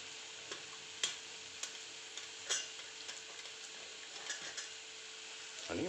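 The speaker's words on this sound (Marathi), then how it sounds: "परत एकदा मिक्स करून घ्यायचं आहे." A spoon taps and scrapes through guar bean curry in a pan during mixing, giving sparse, soft clinks and scrapes over a faint low sizzle, quiet and close.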